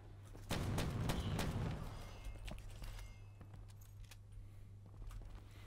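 SG-12 shotgun in Black Ops 4 firing several rapid, quiet blasts in a tight burst, followed by fainter scattered shots and clicks amid a low steady hum.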